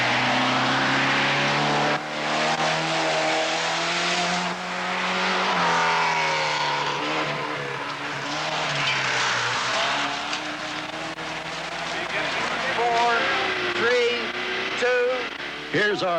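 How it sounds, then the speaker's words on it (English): A rally car slides across a stage finish on extremely rough roads during the 1979 Tall Pines Rally, its engine loud and close, revving and shifting pitch throughout, with a commentator talking over it. "Leverton slides through the finish with 6 minutes, 58 seconds."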